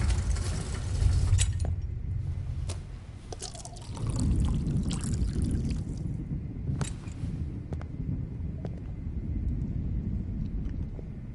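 Water poured in the video game Life is Strange, a steady liquid pour running under low rumbling game ambience, fairly close and moderately loud throughout, with a few brief clicks.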